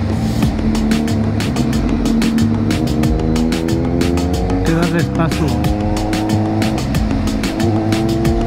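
A VW Beetle skidding on spilled oil on the road, with sustained tire squeal and engine noise over a steady roaring drone, loud and close throughout.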